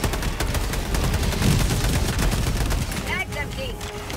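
Rapid, rhythmic gunfire crackles steadily in Helldivers 2, loud and close, with shots layered under a player's voice.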